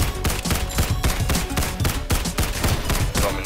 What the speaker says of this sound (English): Minigun tried to fire but instantly stunned.